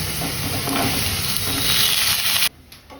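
Capsicum and potato frying in a pan with cumin and garam masala give a loud, steady sizzle with stirring scrapes, cutting off sharply near the end to quiet.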